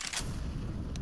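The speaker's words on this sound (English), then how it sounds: "Throwing a flashbang." Flashbang grenade going off in the video game CS:GO, a dense, loud, sustained roaring burst with rumbling low end and two sharper crackles near the start and end, heard alone.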